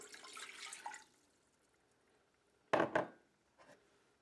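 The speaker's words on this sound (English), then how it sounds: "So I have 1½ cups of water here. Add it to a pan." Water, one and a half cups, poured into a cooking pan while making sugar syrup for hummingbird nectar, a short burst of splashing following an earlier stretch of running liquid, then a faint small clink.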